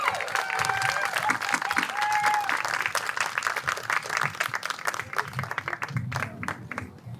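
A crowd gathered at a Port St. Lucie city celebration applauds the mayor with steady, dense clapping and a few scattered cheers, loud and sustained before thinning slightly toward the end, with faint voices mixed in.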